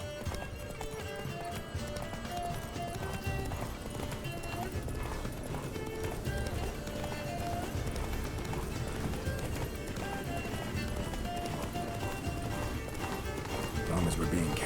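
Roach, a horse in The Witcher 3, gallops with steady rhythmic hoofbeats under constant music while characters talk over the running.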